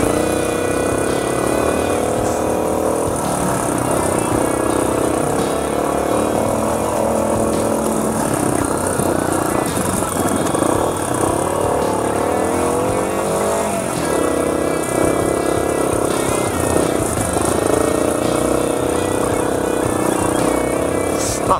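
A Yamaha Tricker trail bike runs along a mountain forest road in Mie, its engine rumbling continuously and close by, with small shifts in pitch as the throttle changes.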